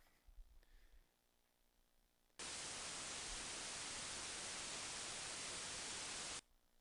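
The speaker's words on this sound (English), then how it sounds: "That's what the white noise signal sounds like." Steady broadband white noise signal, a loud constant hiss that switches on abruptly after a faint quiet stretch, holds evenly for about four seconds, then cuts off sharply, as an audible rendering of a gravitational wave background test signal.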